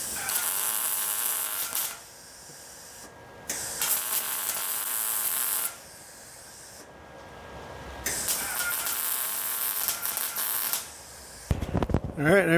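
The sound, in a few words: welding a brace onto a 1964 Thunderbird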